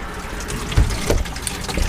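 Water runs from a kitchen sink tap in a converted Sprinter van, fed by a newly installed tank and pump, a steady close splashing flow with no talking.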